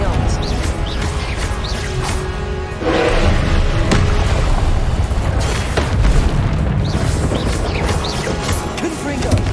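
Repeated Confringo blasting-curse explosions in the Hogwarts Legacy video game, dense booming bursts layered over constant battle noise and music, with a voice shouting spell names throughout.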